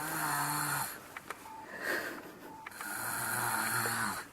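Soft, rhythmic snoring from a sleeping baby, slow breaths rising and falling, close by over faint background tones.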